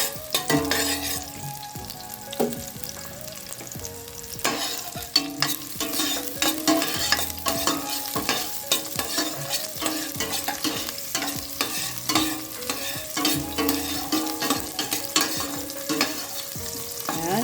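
Garlic and onion frying in a pan for kare-kare, sizzling steadily while a utensil stirs and scrapes with repeated clacks, close and fairly loud, with no talking.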